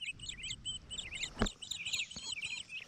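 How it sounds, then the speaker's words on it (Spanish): Birds singing outdoors on a hillside where cows are being herded, repeated quick chirping phrases at moderate distance with a brief knock partway through. "qué bonito se oyen los pajaritos ahí cantando"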